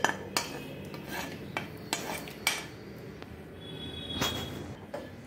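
Roasted almonds scraped out of a pan with a spoon, a series of close, distinct metallic clinks and scrapes spaced about half a second apart over a faint background hum.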